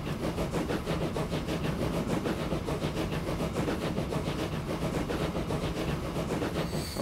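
Trains in the game Transport Fever 2 roll along rails in an 1850 setting, a continuous rhythmic clatter and rumble at moderate volume with no speech.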